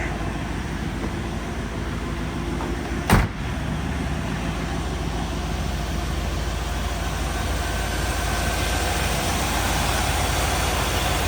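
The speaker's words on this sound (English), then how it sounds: "Real nice, smooth running engine." A 1964 Chevy Impala engine idles after a cold start, making a steady, continuous low rumble with a smooth, even texture. A single sharp click breaks in briefly early on, and no one speaks.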